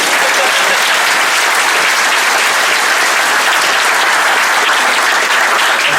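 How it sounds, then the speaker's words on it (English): Loud, dense applause from a room of guests at a speech event, a continuous wash of many hands clapping close and steady from start to finish. "Round of applause."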